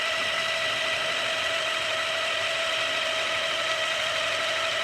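Small RC car electric motor running on a dyno while being bogged down under load, a loud continuous high-pitched whine with a sustained tonal hum and a gritty buzzing texture, alone without talk.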